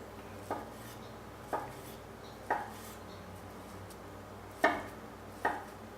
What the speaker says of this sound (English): cut into nice big cubes